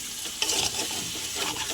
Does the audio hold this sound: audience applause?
no